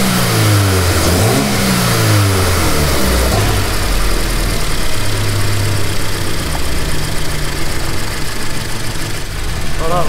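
A Toyota 86 engine, down slightly on compression, revs up sharply from idle in a few quick blips before settling back, loud and close throughout.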